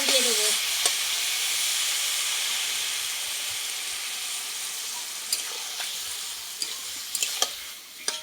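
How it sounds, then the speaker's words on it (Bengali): Water hits spiced pumpkin shoots frying in ghee with ground spices, green chilli, ginger and cumin, setting off a loud, steady sizzle and hiss that slowly eases, with a few spoon clinks as the pan is stirred. "এইবার আমি জল দিয়ে দেবো।"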